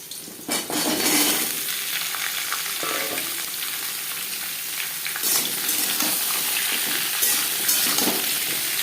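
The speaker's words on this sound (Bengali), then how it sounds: "জিরে, শুকনো লঙ্কা, তেজপাতা ভেজে নেওয়ার পর দিয়ে দেবো পেঁপে।" Papaya tossed into hot oil with cumin, dried red chili and bay leaf sizzles loudly up close, with spoon scrapes and pan knocks as it is mixed, no talk.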